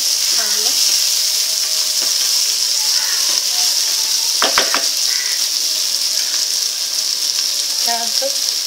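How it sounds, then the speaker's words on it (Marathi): Peas are mixed in a frying pan with a loud, steady sizzle, a few stirring scrapes and one sharp clatter partway through, up close, no speech. "वाटाणे मिक्स करून"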